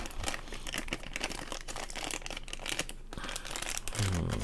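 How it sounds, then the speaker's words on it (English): Plastic packaging crinkling and crackling close up as an anime figure of Kikoru Shinomiya is pulled from its wrapping, busy irregular rustles and crunches throughout, ending with a brief low voice. "let's get her out of the plastic"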